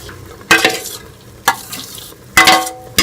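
Rice is stirred into a pot of boiling water for jaggery rice, with three sharp scraping, sizzling strokes of a spoon at roughly one-second intervals over a low bubbling background, close up and without talk.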